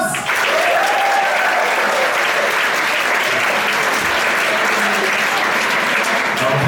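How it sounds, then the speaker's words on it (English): Sustained, loud applause from an audience at a science slam opening, a thick wash of clapping that holds steady for several seconds with faint voices mixed in. "give me a round of applause"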